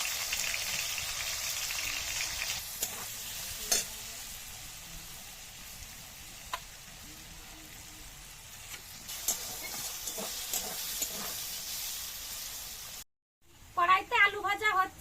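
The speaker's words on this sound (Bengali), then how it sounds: "কড়াইতে আলু ভাজা হচ্ছে বন্ধুরা," Potatoes frying in oil in a wok make a soft, continuous hiss with occasional light pops. It fades out near the end before a short burst of louder sound, and a voice is faintly heard over it.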